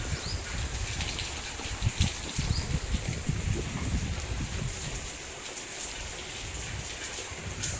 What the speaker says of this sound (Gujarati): અમારે મણાર ગામમાં વરસાદ આવી રહ્યો છે